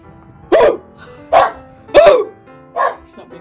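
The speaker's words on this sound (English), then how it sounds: "And the dog and the cat are fighting downstairs." A dog barks four times in steady, loud, close succession while fighting with a cat downstairs, each bark short and sharp with brief pauses between.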